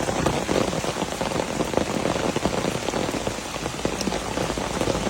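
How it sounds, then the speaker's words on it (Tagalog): Heavy rain pounding steadily on surfaces, a dense, continuous hiss of drops with no letup. "ang lakas na ulan"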